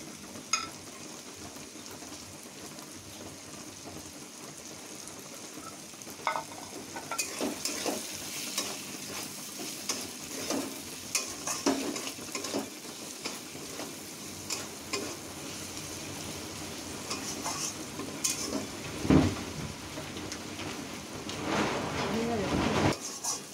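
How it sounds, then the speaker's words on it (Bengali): Green chillies frying in hot oil for a chicken tadka, with a steady sizzle and intermittent scraping stir strokes that grow busier midway, close and moderately loud. "কাঁচা লঙ্কাটাও দিয়ে দেব।"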